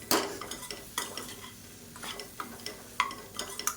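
Beans sautéed with gram flour in a pan, stirred with a utensil that scrapes and taps the pan in irregular strokes over a soft, faint sizzle.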